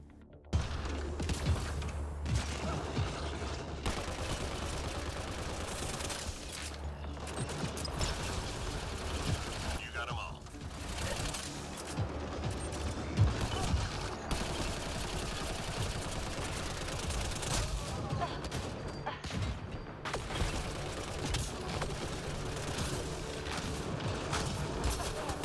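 Rapid gunfire from the Raptor weapon in Mass Effect: Andromeda multiplayer, firing in dense continuous bursts with mechanical clatter and game effects throughout, loud and close.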